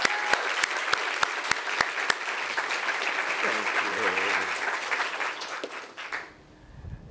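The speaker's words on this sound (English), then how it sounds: "let's give Dean Chemerinsky a great round of applause" An audience at a campus free-speech event applauds to welcome Dean Erwin Chemerinsky, with a few sharp early claps swelling into sustained, full applause that fades out over the last second.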